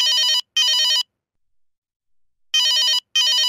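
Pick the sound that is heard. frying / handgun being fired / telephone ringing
telephone ringing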